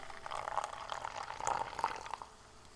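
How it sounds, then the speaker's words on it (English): Black-can soft drink, original flavor, is poured from the can into a glass, giving a steady fizzing, gurgling stream for a few seconds at moderate level with no talking over it. "Oh, hear that pour."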